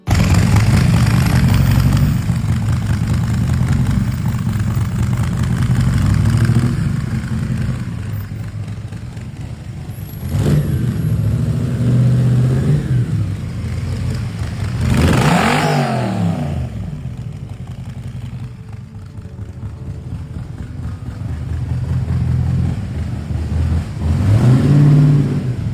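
A 1965 Shelby Daytona Coupe continuation replica by B&B Manufacturing rumbles loudly at idle, then swells through several throttle blips and revs, a deep, close engine sound with no talking.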